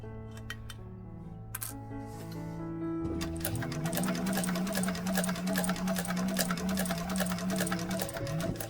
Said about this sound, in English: you set your stitch length to construction stitch. Mine is at 4. And we're going to back stitch in the beginning and the end.